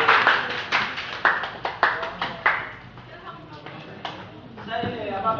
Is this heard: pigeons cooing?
no